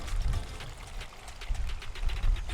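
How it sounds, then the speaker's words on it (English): Water poured slowly into a plastic bag holding a ryukin goldfish beside a pond, a soft, steady close-range splash and trickle with small surges throughout. "I'm gonna slowly be adding my water"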